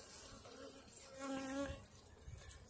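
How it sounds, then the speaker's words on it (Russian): Honey bees buzz steadily inside an opened hive with tall 1 1/5 DNM frames in late winter, the hum swelling in the middle and staying close and continuous with no talking. "пчелы зимуют очень хорошо"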